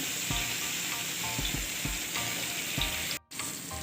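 Chili and thin slices of red pumpkin sizzle steadily in a hot pan for a usal, with a few soft stirring knocks over the continuous frying and a brief dropout near the end.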